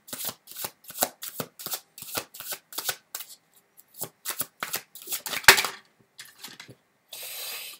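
Tarot cards are shuffled by hand in a quick run of crisp riffling bursts with short pauses between them, close and clear, ending in a softer rustle.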